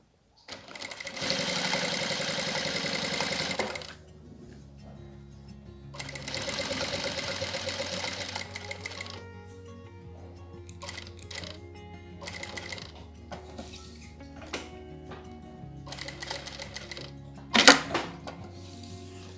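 A sewing machine stitches bias binding along its fold on a plastic pouch, running in two long, steady bursts and then short stop-start runs amid quieter handling noises and a sharp click near the end.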